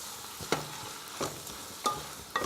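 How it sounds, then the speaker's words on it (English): Sweet potato leaves cook down in a pan over low heat with a soft, quiet sizzle, broken by four evenly spaced scrapes of a spoon stirring them. "I've turned the fire down, and what I want is for the leaves just to shrink down and cook down a little bit."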